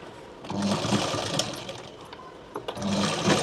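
A sewing machine runs in two bursts of stitching on a child's blouse, joining the waistband. Each burst is a fast, steady mechanical whirr lasting about two seconds, with a short pause between them.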